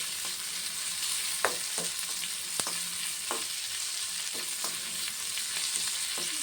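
Chutney ingredients sauté in oil in a pan, a steady close hiss punctuated by sharp scraping clicks of stirring, with no talk.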